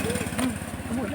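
A motorcycle engine putters close by on a road, a steady low rhythmic chug with slight wavering pitch, heard beneath people talking throughout.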